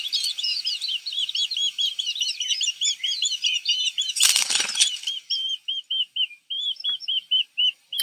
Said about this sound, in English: those little robin offspring really did a lot of things to let their parent know that they needed something